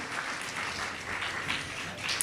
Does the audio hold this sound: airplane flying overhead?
no